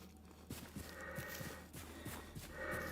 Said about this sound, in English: Did I find the Skyrim horse?